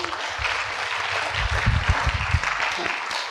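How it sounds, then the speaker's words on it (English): Audience applause following a lecture, moderate clapping with some low thumps, a mid-distance crowd sound lasting a few seconds. "some of us will give him a round of applause."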